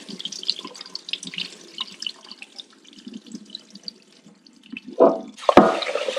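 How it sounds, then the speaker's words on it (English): Water runs and splashes irregularly in a sink as basmati or sona masoori rice is rinsed by hand, with louder gushes near the end. "just use your palm to filter the water and rice"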